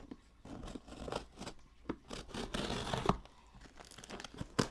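Thick packing tape on a plant shipping package is cut and torn: close, crinkly snips and rasping tears in irregular bursts, with no talking.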